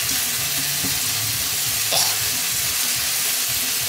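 Minced meat fries in a pan while it is chopped and broken up, giving a steady, close sizzle throughout with a faint scrape or tap near the middle and no talking.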